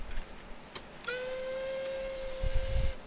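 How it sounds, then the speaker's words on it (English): A steam locomotive whistle sounds in Train Simulator 2020 on a Great North of Scotland workshop route: one steady, shrill, sustained blast of about two seconds over faint background hiss and low rumbles. "Standard standard whistle sound effects. If you press spacebar, you get that."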